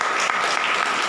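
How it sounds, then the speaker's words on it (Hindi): Church congregation clapping together for the Holy Spirit, a dense, steady wash of applause that fills the whole moment without pause. "आज सब पवित्र आत्मा के लिए ताली बजाएंगे।"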